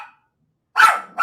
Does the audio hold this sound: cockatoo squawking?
no